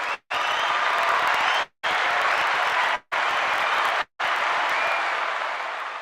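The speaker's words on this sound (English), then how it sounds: "Let's give everybody a round of applause." Audience applause rings out in several bursts, broken by sudden brief silences, full and steady throughout before easing slightly toward the end.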